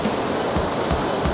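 A waterfall roars in a steady, dense rush close by, broadband and unbroken, with rain falling at a campsite in Natividad, Pangasinan.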